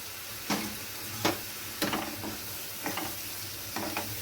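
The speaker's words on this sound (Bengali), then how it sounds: "মশলাটা আমি ভালো করে কষিয়ে নেব" Tomato paste and spices sizzle in a hot pan, a steady soft crackle broken by about six sharp scraping stirs of the spoon at irregular intervals, close and fairly quiet, with no talking.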